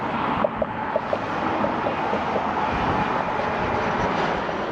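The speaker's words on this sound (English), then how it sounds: "there's a plane coming into National Airport" Plane descending to land at National Airport, a broad steady roar of jet engine noise mixed with nearby traffic rumble, moderately loud and unbroken, no voices.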